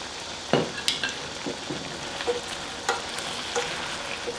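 Potatoes cooking in a pan as onions go in and get stirred, soft sizzling under a series of scraping, clattering stirs and utensil knocks, close and without speech.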